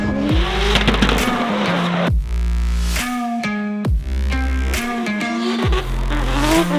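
Drift car lapping at an evening motorsport event, engine revving up and down in repeated surges while tires squeal and skid loudly and close by, no voices.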